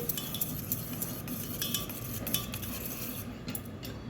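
A spoon scrapes and clinks steadily around a bowl as a thick yogurt and water mixture is stirred, a quiet repetitive mixing sound with no talking.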